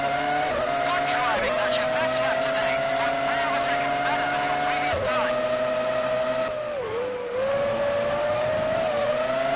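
A 2003 Formula One race at San Marino, with a McLaren running a Mercedes engine among the field, its high engine whine holding steady and rising through the gears, loud and continuous, with a commentator's voice running underneath.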